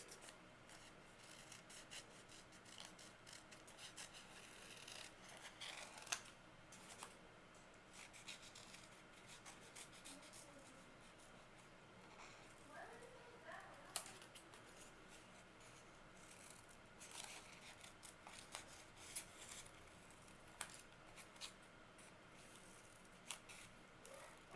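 Scissors snipping through a folded paper snowflake, soft irregular cutting and rubbing sounds heard close and quiet with no talking.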